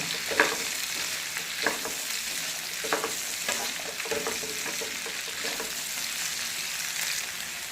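Potatoes stir-fry in a pan for a spicy potato, chilli and okra curry, giving a constant close sizzle punctuated by repeated scraping stir strokes.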